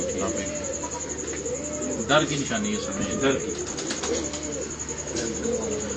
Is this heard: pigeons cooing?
yes